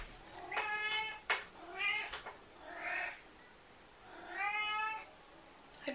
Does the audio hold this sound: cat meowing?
yes